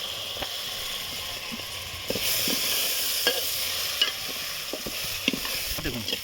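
Potatoes fry in a pan with whole garlic and a splash of water, sizzling steadily while a utensil scrapes and knocks against the pan in irregular strokes.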